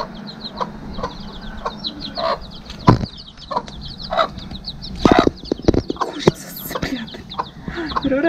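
Black chickens clucking in Martinique, with short repeated clucks and chirps scattered over steady outdoor background noise and a few louder bursts.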